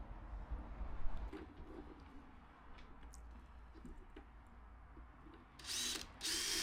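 Power drill driving the supplied screws to attach casters in a woodworking workshop, short whirring bursts at moderate distance with quiet pauses between, the loudest run near the end.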